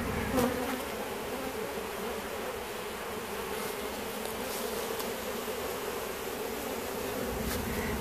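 Honeybees swarm and hum in a dense, continuous drone under a trailer in Auburndale, Florida during a removal, holding a steady loud buzz throughout with a few sharper passes near the start.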